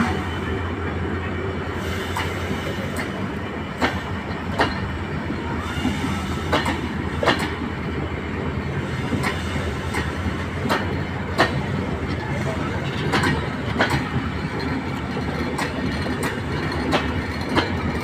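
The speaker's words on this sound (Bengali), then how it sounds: "এই মুহূর্তে দিনাজপুর রেল স্টেশন থেকে ছেড়ে যাচ্ছে পঞ্চগড়গামী" A long passenger train bound for Panchagarh pulls out of Dinajpur railway station, its wheels giving a steady rhythmic clickety-clack with rumble and occasional squeal, heard close by under faint crowd noise.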